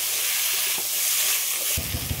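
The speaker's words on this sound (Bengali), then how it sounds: "ঝিঙে আর আলুটা এই মাছ ভাজা তেলের মধ্যে দিয়ে দিচ্ছি" Ridge gourd and potato pieces hit hot oil left from frying fish, giving a steady bright sizzle and hiss that swells sharply near the end as more goes into the pan.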